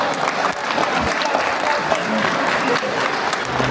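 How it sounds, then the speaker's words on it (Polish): A crowd at a charity football tournament bursts into loud, continuous applause after a shirt auction, dense clapping running steadily with a faint voice underneath. "Wielkie brawa jeszcze tutaj raz za wylicytowanie koszulki"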